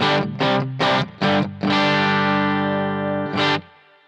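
Electric guitar played through a Bluguitar Amp1 Mercury Edition amplifier in vintage mode, loud and close, with several short distorted chord stabs, then a long sustained ringing chord and one final stab that fades out.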